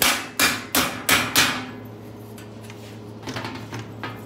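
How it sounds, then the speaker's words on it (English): Four sharp, evenly spaced hammer blows strike thin sheet metal on a wooden stump for a Willys MB rear seat pan, followed by a few softer taps under a faint background hum. "I'll just do it right here on the stump normally I'd take this over to my anvil and work the metal over there a little bit"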